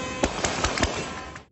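Gunshots fired into the air by armed men around a seized humanitarian aid truck in the Gaza Strip, a rapid cluster of sharp cracks over a noisy background.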